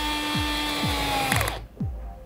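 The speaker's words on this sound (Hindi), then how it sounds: "तो ये है बॉस का गो जनरेशन 2 स्क्रू ड्राइवर। चलिए अब इसको टेस्ट करते हैं।" A Bosch Go Gen 2 cordless screwdriver whirs steadily with a ratcheting clutch clicking repeatedly, about four sharp clicks, the motor cutting off near the end.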